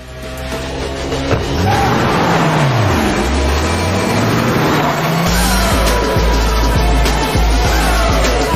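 A third-generation 2023 Range Rover Sport engine revs hard and accelerates, its pitch sweeping up and down, loud and close, then settles into a strong steady roar.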